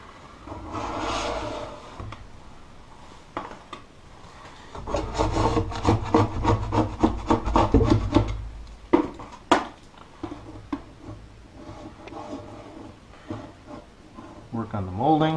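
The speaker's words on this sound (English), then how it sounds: "apply a little bit of the stripper in this area and take it off with a putty knife" A putty knife scrapes softened paint stripper off wooden molding in repeated rasping strokes of varying loudness, with a voice talking over parts of the work.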